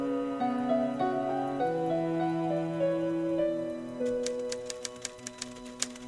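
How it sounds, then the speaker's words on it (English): Rapid typewriter-like keystrokes click in a quick irregular burst near the end, preceded by a sustained melodic music cue, from the Nancy Drew game Treasure in the Royal Tower. "Still typing."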